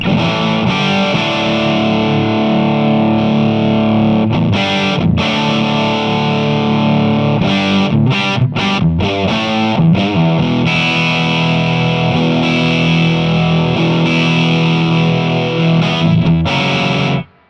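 Loud, heavily distorted electric guitar through a JTM 101 amplifier with boost engaged, sustained chords and riffs with brief choppy pauses, ending abruptly.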